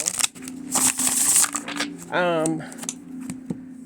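Large tarot cards being shuffled in quick riffling bursts, close up, with a short high-pitched vocal sound partway through.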